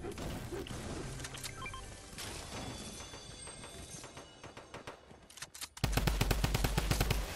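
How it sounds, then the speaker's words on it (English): Rapid automatic gunfire in a video game as drones are shot down: dense, steady bursts of shots under other game noise, then a louder, sharper run of closely spaced rounds near the end. "I'm just shooting down the drones"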